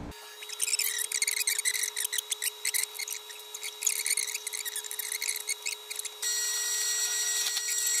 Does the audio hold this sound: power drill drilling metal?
yes